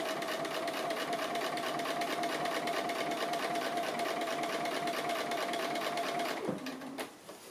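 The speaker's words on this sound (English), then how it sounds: "I'm just going to stitch around the edge of that nose as well." A sewing machine runs in one steady, fast whirring stretch as it stitches around the nose of a dog appliqué, close and loud, then stops abruptly near the end with a brief mechanical clunk.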